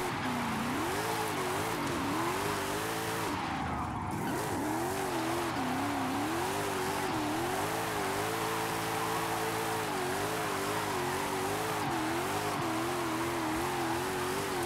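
Racing car engine in Forza driven hard through tight corners in fifth gear, a steady loud engine drone rising and falling with throttle, with tire squeal and skidding, continuous and close throughout.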